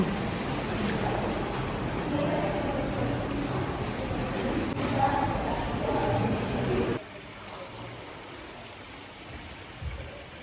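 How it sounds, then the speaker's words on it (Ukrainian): Water in an indoor spa swimming pool with a jacuzzi sends up a broad, wash-like hiss. The hiss fills the space until it drops off abruptly partway through, leaving quieter room tone. "заходимо в басейн"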